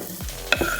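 Courgettes and tomatoes sizzle and fry in a saucepan, with a steady crackle broken by a couple of stirring scrapes up close.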